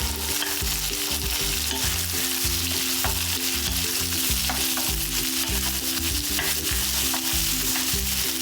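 Marinated raw mangoes frying in hot oil for raw mango chutney, a loud, continuous close-up sizzle and crackle with stirring, over a background of steady, repetitive music.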